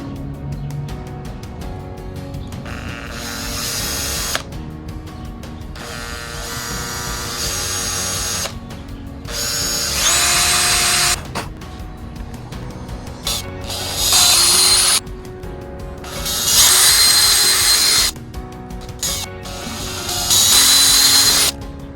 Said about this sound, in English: let's get the drilling.